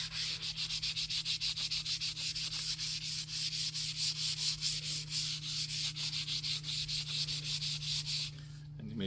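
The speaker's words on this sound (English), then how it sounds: "So I just kind of give it a little bit of sanding." Hand sanding on a wooden paddle during maintenance: a long run of close, brisk, evenly paced rasping strokes, dozens of rapid back-and-forth passes in a steady rhythm, then a brief handling noise at the very end.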